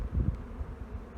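Honey bees at an opened hive give off a soft, low, continuous buzz that swells briefly near the start, close by and faint.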